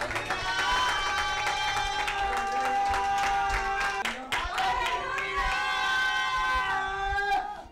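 A congregation claps hands in rhythm during a worship meeting, steady clapping running under loud singing and a leading voice.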